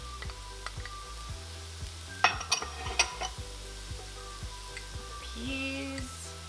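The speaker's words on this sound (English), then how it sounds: "I'm going to go ahead and add my scallions" Scallions and onion hitting a hot pan of fried rice, a soft continuous sizzle under a few sharp metallic clinks and scrapes of a utensil against the pan midway.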